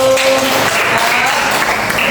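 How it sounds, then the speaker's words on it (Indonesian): Classroom students in an English lesson clap together, loud close applause following a brief voice at the start and holding steady to the end. "Tepuk tangan dulu"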